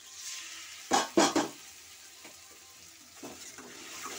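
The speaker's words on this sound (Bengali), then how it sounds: "এইভাবে একটু নাড়তে হবে।" Spices with a little water are stirred in a frying pan during Bengali cooking, with a few sharp scraping strokes followed by a soft, faint sizzle and occasional light clinks.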